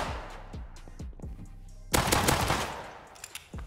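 Gunfire in the Rust survival game, a rapid burst of sharp, loud shots near the start followed by a dense, bright volley and a few scattered later cracks, with no talk over it.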